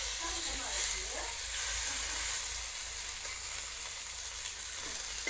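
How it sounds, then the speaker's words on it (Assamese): Fish frying in a pan gives a steady, broad hissing sizzle throughout, close and even, with low rumbling below and faint voices murmuring in the background. "মাছ ভাজি আছে বৰ্তমান"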